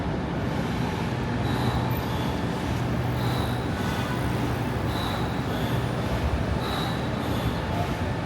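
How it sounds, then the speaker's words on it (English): A New York City subway train on Broadway in Manhattan rumbles steadily nearby, with rhythmic clacking of wheels and periodic high squeals from the rails. "You could also get the R and the W trains right here"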